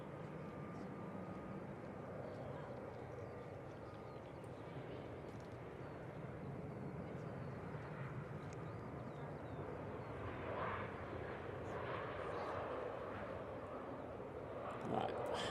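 A Finnair Embraer jet touching down on runway 05 left at Manchester Airport, a steady distant roar of engines and rushing air that swells slightly toward the end, with faint murmurs in the background.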